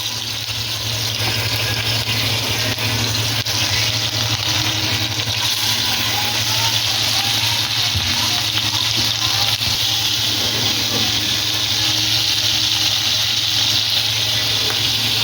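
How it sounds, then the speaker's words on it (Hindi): Goat liver pieces fry in hot ghee on a tawa, giving a continuous even sizzle with a low hum underneath and no talking. "पहले हम कलेजी को फ्राई करना है।"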